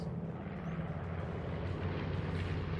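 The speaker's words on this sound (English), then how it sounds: "You can hear the planes overhead" Aircraft in World of Warships drone overhead, forming a low, steady engine rumble during a battle with a Pan-European destroyer. The sound stays even and moderately faint throughout, with no speech.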